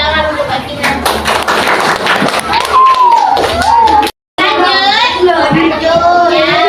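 Classmates clap for a young presenter in a third-grade Islamic studies classroom, a burst of close, scattered handclaps mixed with children's chatter and thumps, cut by a brief dropout before children's voices carry on.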